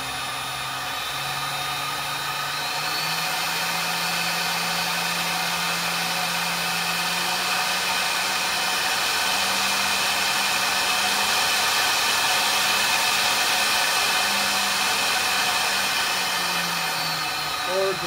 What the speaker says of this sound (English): I can start the spindle. And I can speed up the spindle.